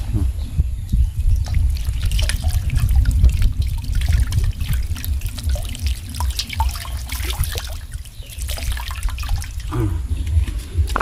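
Water is poured into a container beside a jute retting pond, a continuous close trickle and splash with gurgling changes, fairly loud and running the whole time.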